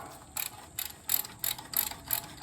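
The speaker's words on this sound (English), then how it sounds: "Let me get this other top bolt out." A hand ratchet working loose a top bolt on a Jaguar independent front suspension, several short bursts of crisp, close clicking separated by brief pauses.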